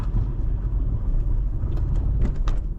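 A car rolls slowly along Pine Avenue in Long Beach, giving a steady close engine and road rumble with a few faint higher hisses near the end.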